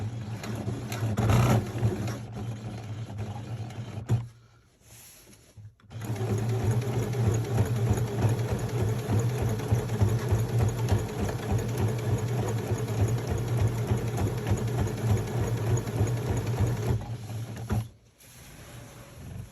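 Sewing machine stitching through thick dress fabric, running in a steady, loud mechanical whir with a brief stop partway through and another near the end, close by with no talking.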